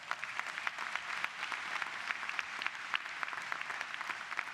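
An audience applauds the law school's board of advisors at a university law college commencement ceremony, a steady wash of many hands clapping at moderate distance, continuous for several seconds with no voices over it.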